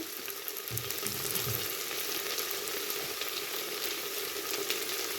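Okra tamarind curry with chili, coriander and turmeric powders sizzles steadily in a pan while a spoon stirs it, giving faint scraping sounds over the constant frying hiss.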